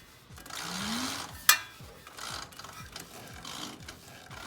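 Engine of an M151A2 being turned over by hand with a ratchet during a valve adjustment, giving a series of faint rhythmic clicks with a sharp metallic tick partway through, no talking.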